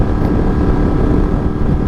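A Yamaha MT-07 motorcycle runs clamped down with its rear wheel on demo rollers, giving a loud, close, continuous engine rumble with a rough low-end drone and no pauses.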